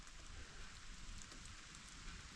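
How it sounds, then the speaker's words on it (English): Rain falling outdoors makes a faint, even hiss of drops on surfaces, distant and continuous, with no voices over it. "It's actually raining."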